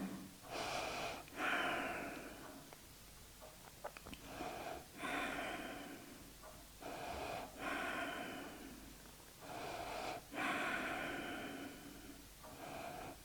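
Slow, deep breathing during a gentle yoga stretch, close and soft: about six full breath cycles, each a long airy inhale or exhale through the nose with slight snorting texture, separated by short pauses and no talk.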